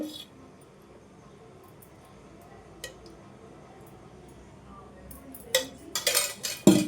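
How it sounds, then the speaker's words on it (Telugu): A metal kadai is set down on a gas stove and the burner switched on: a long quiet stretch, then a few close metallic clinks and clatters bunched together at the end. "పోపు రెడీ చేసుకోవడానికి ఒక మూకటి పెట్టుకొని స్టవ్ ఆన్ చేసుకుందాం"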